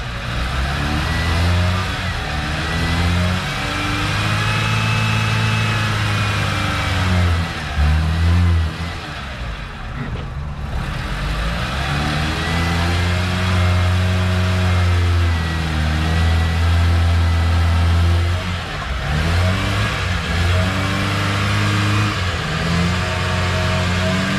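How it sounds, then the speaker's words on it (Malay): A car engine labours and roars under load because of a worn-out clutch plate. The loud, continuous drone swells and dips in pitch through repeated revs, with a brief lull in the middle and no voices. "Sekiranya kereta anda jadi berat nak gerak dan enjin meraung macam dalam video ni"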